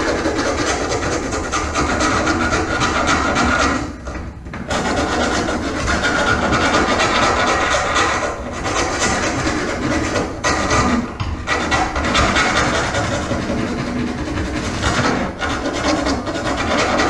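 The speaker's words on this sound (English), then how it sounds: "grab the file real quick and deburr it" Hand file rasping over a freshly drilled hole to deburr a part on a 1978 Ford F100 Crown Vic subframe install, steady close scraping strokes with a few brief pauses, no talk.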